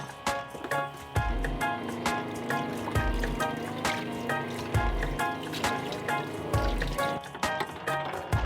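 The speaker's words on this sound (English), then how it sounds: "so that will force the tap to basically put out less water" Running water from a van's off-grid water system, flowing through a tap fitted with a flow-restricting aerator: a continuous close trickle and splash carries on throughout, broken by repeated louder knocks and clunks, with no talk.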